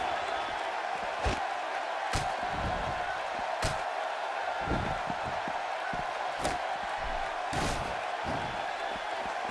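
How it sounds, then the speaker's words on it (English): A large video game wrestling crowd (WWE 2K16, no-rules match) roars and cheers continuously, with occasional loud slams and thuds cutting through the steady noise. "by the sound of this crowd"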